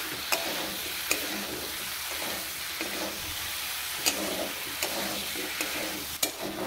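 Vegetables and spices fry in a pan for a small-fish curry, a steady close sizzle broken by several sharp clinks of a spatula against the pan as the mixture is stirred.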